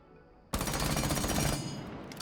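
Rainbow Six Siege automatic gunfire erupts abruptly after a quiet moment, a loud rapid burst of shots lasting about a second and then trailing off into ringing echo.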